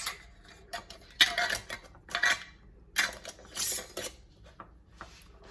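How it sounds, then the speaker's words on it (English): A glass canning jar of homemade spam set into a canner, giving a series of close clinks, scrapes and knocks of glass and metal in irregular bursts, with no talk. "Into the canner it goes."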